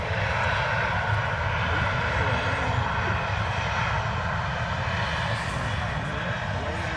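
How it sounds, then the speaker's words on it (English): Ryanair Boeing 737 arriving from Milan at Manchester Airport, a steady broad engine roar held at moderate level throughout, with a low rumble underneath and a faint voice mixed in. "For the Ryanair 737"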